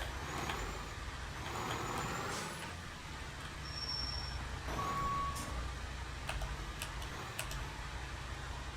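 Tower fire truck 68 in the EmergeNYC game, a low steady engine rumble idling under beeps, ticks and brief air-brake hiss, with no talk.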